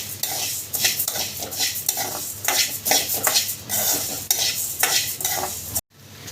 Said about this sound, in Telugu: ధనియాలు వేయించుకోవాలి